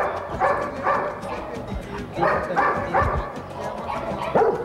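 Several dogs bark and yip in short bursts close by, with a few whimpers in between, while people talk and laugh over the commotion.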